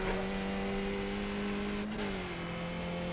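A Skip Barber race car engine in the iRacing sim holds a loud, steady high-revving drone, the pitch dipping slightly after a brief shift near the end, with no talk over it.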